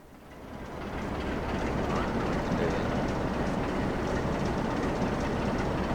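A train in the Trainz console game on a Scottish East Coast Main Line dock route rolls along with a steady rumbling rail noise that builds over the first second, then holds even and fairly loud.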